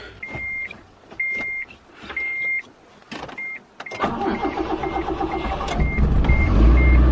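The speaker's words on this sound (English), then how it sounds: "The car turns on." Several electronic beeps, then a car engine cranks and catches, settling into a steady running hum that grows slightly louder.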